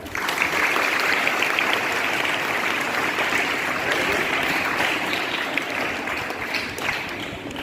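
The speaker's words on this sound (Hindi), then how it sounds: "तो मैडम के लिए तालियां बजाओ" A group at a school National Sports Day celebration claps steadily and continuously, a dense, even patter of many hands that carries on without pause.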